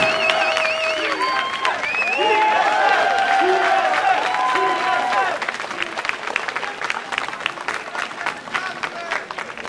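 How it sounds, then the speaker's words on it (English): A crowd at an esports championship trophy ceremony applauds and cheers loudly, with sustained clapping and whistles that thin slightly toward the end, while voices call out over it. "Let's have one more round of applause for these guys as they get an amazing trophy from Freak."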